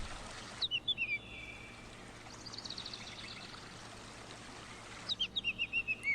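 Songbirds chirp in quick trilling phrases at the start and end of the scene, close and clear over a continuous rush of flowing water from rivers and waterfalls in a wooded area.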